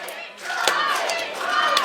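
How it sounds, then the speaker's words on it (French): A wrestling crowd at a JCW No Limit event cheers and applauds for wrestler Statix in a dense, loud, continuous roar with a few sharp claps and shouts cutting through. "pendant que Static se fait applaudir"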